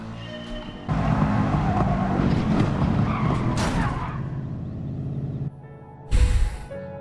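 New Mercedes race car in a racing video game skidding with sustained tyre squeal over a loud engine drone, the screech fading near the end before a short, sharp burst returns.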